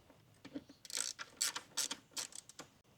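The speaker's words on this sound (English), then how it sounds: "Use the ratchet righty-tighty." Ratchet tightening the battery hold-down on a 2020 Toyota Corolla SE, heard as a close series of quick metallic clicking bursts in an uneven rhythm, with brief pauses between strokes.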